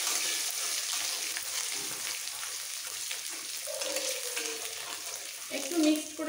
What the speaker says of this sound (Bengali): রসুনটা তেলের মধ্যে মিক্স করে ফেলবো।